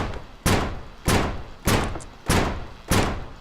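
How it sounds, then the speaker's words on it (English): Five heavy gunshots blast against a base door in the survival game Immune, spaced evenly about every 0.6 seconds, each a loud close impact with a short decaying tail and no talking. "Okay, I'll start shooting the door then."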